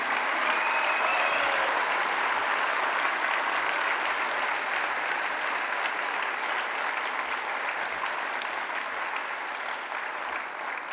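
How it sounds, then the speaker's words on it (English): A large World Merit Day audience gives sustained, dense applause, a full wash of clapping that holds steady and eases slightly near the end, with no talk. "I'd like you to give them an applause for me, please"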